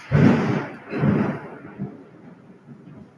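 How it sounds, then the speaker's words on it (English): Rolling thunder in a storm, two heavy rumbling swells followed by softer fading grumbles, deep and fairly close, with no talking. "it's thunder and lightning"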